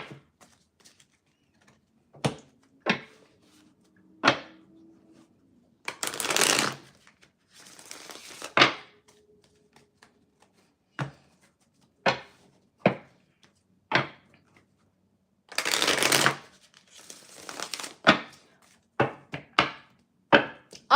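Tarot cards are shuffled and handled in a quiet room: a run of crisp single taps and snaps, with a couple of longer riffling bursts, close and fairly loud with no voice.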